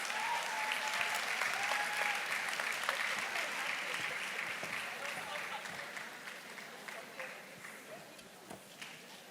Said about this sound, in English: A round of applause for Mrs. Awoshika as she comes.